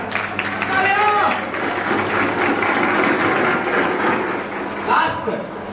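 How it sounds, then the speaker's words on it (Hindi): An audience at a night religious program claps in sustained, dense applause, the steady patter of many hands under a loudspeaker voice and background chatter. "तालियां बजाइए जोरदार।"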